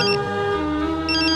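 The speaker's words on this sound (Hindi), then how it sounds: "नाश्ता करने बैठे नहीं, अंजलि का फोन आ गया।" A mobile phone rings in a household scene with a bright, repeating electronic tone that pauses and then resumes, moderately loud and with no talk over it.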